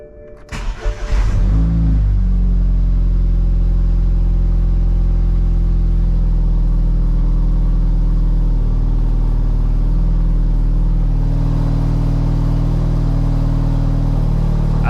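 A BMW Z4 E89 engine with a newly fitted timing chain cranks and catches in the first second, then settles into a steady, loud, close idle with a deep rumble that swells slightly toward the end.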